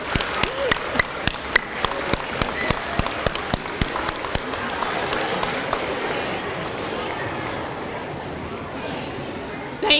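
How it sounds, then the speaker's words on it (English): Students and guests at an elementary school award celebration give scattered applause. Distinct individual claps ring out near the start, then thin into a softer patter with murmured chatter in the room. "give them a big round of applause as well as guests"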